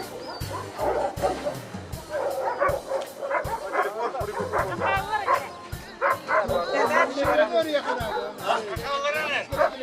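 A Yakutian Laika named Linda barks repeatedly at a 2022 Yakutian Laika event, sharp yips and barks coming in quick succession, with a murmur of people talking in the background.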